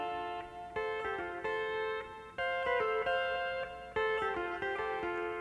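Pedal steel guitar plays an instrumental, sustained sliding chords changing every second or so in a steady, clear melodic line with no talking.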